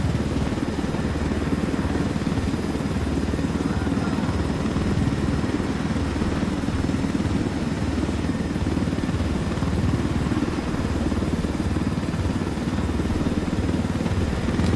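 Helicopter in Ghost Recon Wildlands gives a loud, constant rotor and engine roar with a rapid chopping pulse, close and steady throughout with no voices.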